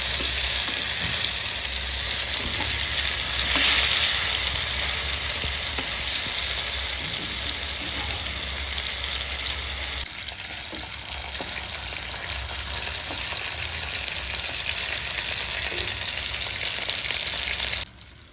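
Fish frying in a pan of hot oil, a dense continuous close sizzle that holds steady for the whole stretch, easing slightly partway through, with no voices over it.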